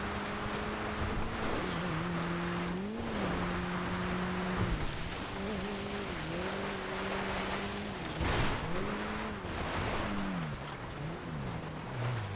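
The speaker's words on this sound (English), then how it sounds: "the Futo time attack is a little bit of a struggle off-road, but it's got so much grip anyway" A Futo time attack car driving off-road in a GTA FiveM race, its engine droning steadily with rising and falling revs over constant rough rumble and scraping noise.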